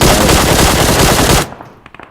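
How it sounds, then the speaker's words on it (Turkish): Dense automatic gunfire rattles loudly in a PUBG Mobile firefight, then breaks off abruptly into a few faint scattered shots. "Bu tarafta çok fena çatışma var."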